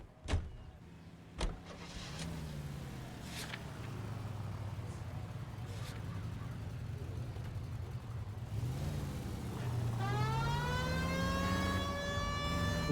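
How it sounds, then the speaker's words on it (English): Police car siren in LA Noire winding up over a running car engine: a few faint knocks first, then a rising, wailing tone that climbs and holds near the end. "Get the siren on."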